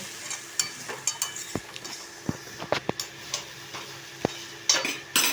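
Spoon scraping and stirring flattened-rice (chira) pulao with salt in a pan, a run of soft scrapes and sharp clicks against the metal, close and moderately quiet, with a faint sizzle beneath.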